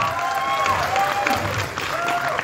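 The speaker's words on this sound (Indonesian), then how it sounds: "berikan tepuk tangan dong, yuk" Applause from an audience at an Indonesian film event for a horror movie about a bald pocong, a moderate burst of clapping with light cheering and some crowd voices mixed in.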